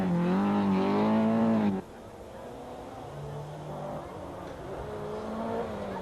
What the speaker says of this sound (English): But challenging in second place the Opel Ascona of Tom Muir.